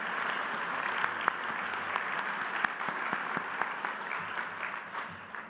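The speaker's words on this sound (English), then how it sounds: "I think we should give them a big round of applause just to get going." At a business hall of fame luncheon, an audience gives a steady round of applause, moderately loud and even throughout, with a few sharper claps standing out near the front.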